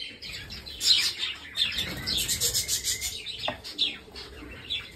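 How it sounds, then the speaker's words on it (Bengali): Budgerigars in a breeding farm colony chirp and twitter continuously, many birds calling at once at close range, mixed with light scratching and rubbing noises. "এই হলো আমার বদ্রি পাখির ফার্ম"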